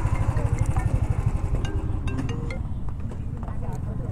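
Idling two-wheeler motorcycle engine, a steady low rumbling throb running through the whole stretch, close and fairly loud.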